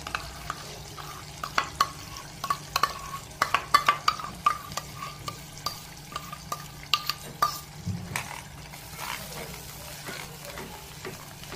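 Prepared masala with kasuri methi being stirred and fried in a pan for paneer butter masala. Quick, repeated spoon scrapes and taps ride over a continuous low sizzle, then ease off toward the end.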